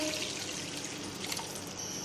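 About half a cup of water is poured into fried masala for beef muthiya kabab, a steady splashing trickle lasting around two seconds, close and fairly quiet.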